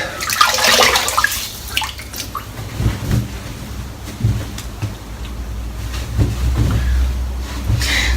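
Water splashes and pours over a head being wetted before a razor shave, a continuous close wash of running water lasting several seconds with a few louder gushes.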